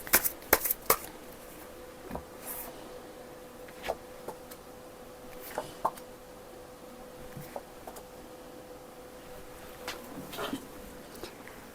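Tarot cards being shuffled and drawn at close range, with quick flurries of riffling and sharp slaps of cards set down, scattered across a quiet background.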